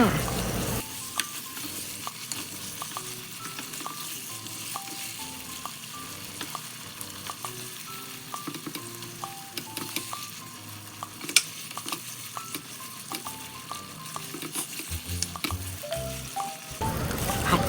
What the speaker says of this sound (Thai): จากนั้นก็ผัดให้หมูสุกดีค่ะ